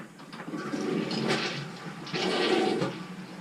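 A household toilet flushing nearby with a loud continuous rush of water, surging twice over a few seconds, with no talking.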